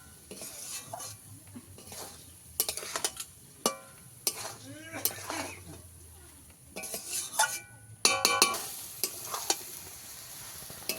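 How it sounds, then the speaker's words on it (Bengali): Rice with turmeric and salt is stirred and fried in a pot for hilsa pulao, made with home-grown rice. Up-close metal scraping and clinks come in irregular bursts over a low sizzle, growing busier and louder toward the end. "সব কিছু আবারও একসঙ্গে মিশাতে থাকবো আমি।"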